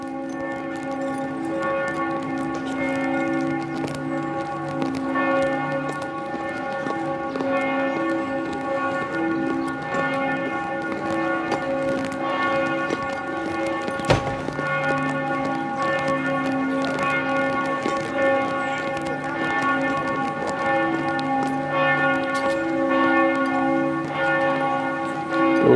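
The church bell of St Michael's in Ljubljana rings for noon in a continuous series of resonant, humming strokes that carry steadily from a distance through the whole stretch, with outdoor street ambience beneath.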